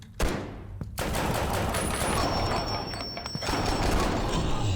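Rapid gunfire from the retro first-person shooter HellHunt, a dense, continuous volley of shots filling the clip after a brief opening burst, loud and close with no pause.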